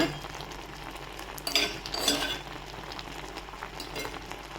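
Sizzling and stirring in a pan, with a brief louder burst of hissing in the middle as tempering is poured into colocasia leaf curry, close by and fairly quiet, no talking.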